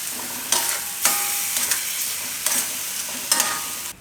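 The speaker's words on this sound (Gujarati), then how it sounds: "થોડીક વાર આને પકાવી લેવું આપણે." A cucumber dish with green coriander and a little water cooks in a pan, sizzling steadily while a spoon scrapes and stirs it in several distinct strokes, with no one talking.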